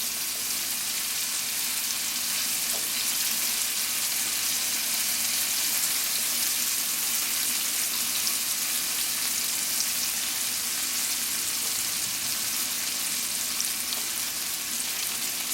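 Green onions frying slowly in a pan over medium-low heat for a vegan chickpea curry, giving a steady, even sizzle that runs unbroken throughout with no voices.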